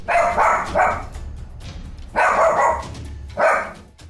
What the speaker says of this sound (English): This creepy doll has been freaking out this dog for days on end